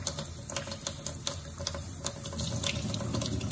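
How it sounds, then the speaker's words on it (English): Water from a tap runs into a jar of sprouting wheat, a steady close splashing stream with a few light knocks and taps early on, then a fuller, louder flow toward the end. "Basically just fill them back up with water."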